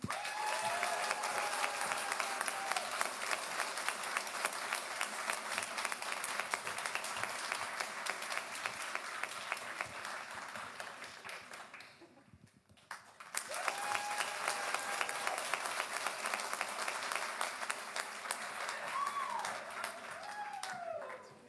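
Sustained audience applause at a doctoral graduation ceremony, dense and steady, briefly dropping away near the middle before resuming at full strength, with a few faint voices beneath.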